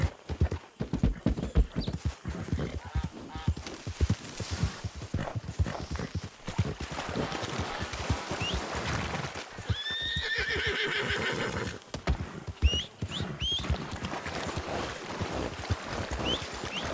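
Horse hooves clip-clop steadily in Red Dead Redemption 2, with a loud whinnying neigh rising partway through, the hoofbeats continuing close and busy throughout.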